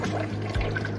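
A household tap is turned on, sending a steady rush of running water, near and fairly loud, for about a second with no talking.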